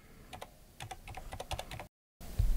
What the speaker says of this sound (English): And let's just type maybe